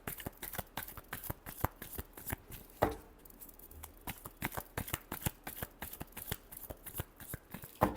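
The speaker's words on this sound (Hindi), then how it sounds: "Last shuffle." A deck of tarot cards riffled and shuffled by hand, giving a rapid series of crisp, close flutters and taps in an uneven rhythm with a brief pause partway through.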